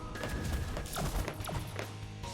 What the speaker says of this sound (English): So now what I want to do is use the Giga Cannon.